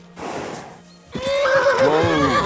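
A horse in the medieval game Kingdom Come: Deliverance II lets out a loud, close, wavering whinny after a quieter opening snort and some shuffling hoof sounds.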